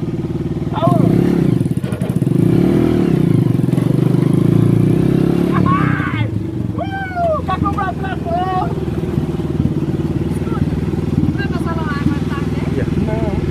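A small tractor engine starts and settles into a loud, steady idle with a rough mechanical chug, running continuously while people talk loudly over it nearby.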